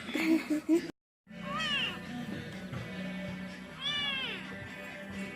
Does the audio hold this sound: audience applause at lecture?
no